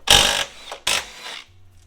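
A hand ratchet works loose one of three 14mm bolts on the strut tower of a Honda Civic Type R, two bursts of close clicking and rasping under the hood, separated by a short pause, then a faint low hum.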